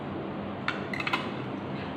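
A spoon and fork laid on a plate at a dining table, a few quiet, brief metallic clinks close by over a low steady background hiss.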